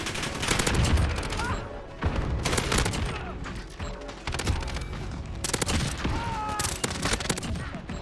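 Dense bursts of automatic rifle fire from a Ram-7 in Call of Duty Modern Warfare, loud and near, with explosions and overlapping gunshots from a hectic online match filling the whole stretch.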